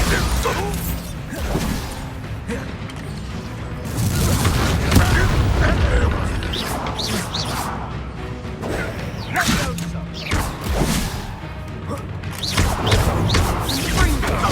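Bombarda spell blasts and combat in Hogwarts Legacy: repeated heavy booms, crashes and clattering impacts roll on throughout, and voices talk over the fighting.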